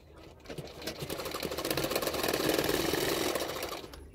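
A sewing machine stitches a seam on a double katori blouse, its rapid mechanical whirr ramping up to a steady close run, then slowing to a stop.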